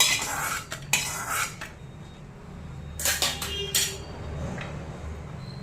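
Utensil scraping and clinking against a pan while tindora (ivy gourd) and chillies are sautéed for a Konkani curry, with bursts of metallic stirring separated by quieter stretches of low sizzling.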